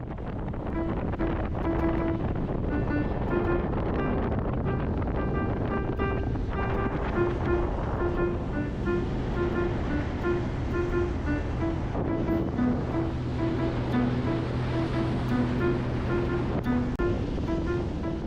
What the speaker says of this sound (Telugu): నైస్ ఎక్స్పీరియన్స్ చాలా థ్రిల్గా ఉంది స్పీడ్ బోట్ రైడ్